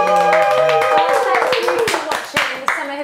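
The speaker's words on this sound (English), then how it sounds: "round of applause for Ashley" An audience claps in a round of applause on a Hollyoaks summer show set, scattered sharp claps mixed with tonal music and voices throughout.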